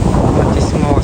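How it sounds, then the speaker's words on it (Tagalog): Strong wind at a ferry port in Lucena buffets the microphone as a loud, steady rumbling roar with no clear pauses. "Tapos ang lakas ang hangin."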